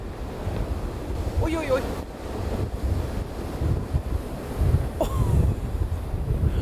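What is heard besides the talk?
big sea wave hitting a ship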